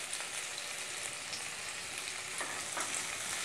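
Curry leaves sautéing in a pan for Chettinad egg curry give a quiet, steady sizzle and crackle with a few stirring scrapes and no talking.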